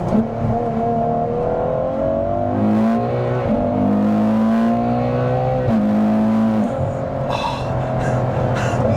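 A Ferrari F12 TDF V12 engine revs loudly at a car meet, pitch climbing and dropping through several surges, close and roaring, with a brief whine near the end.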